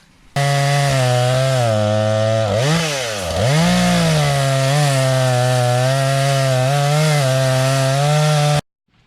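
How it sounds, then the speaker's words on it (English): A chainsaw roars close and loud, cutting a root away from a Toyota Tacoma bumper, its engine pitch dipping under load then climbing back to a steady high rev before cutting off. "We're gonna get the chainsaw out and cut that off."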